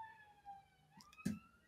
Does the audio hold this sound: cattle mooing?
no